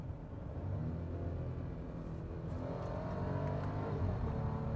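A 2017 Audi Q7 with an 8-speed transmission in manual mode downshifts, its engine giving a steady low rumbling hum that rises slightly, heard from inside the cabin with no talking.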